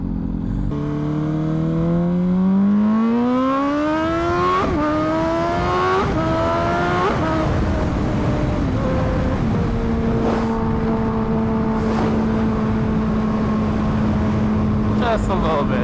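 Honda Fireblade motorcycle fitted with a full exhaust system and running rough from an untuned air-fuel mixture, revving up and down through several rising and falling pitch sweeps before settling into a steady, loud idle.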